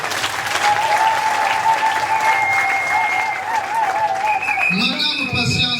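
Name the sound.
applause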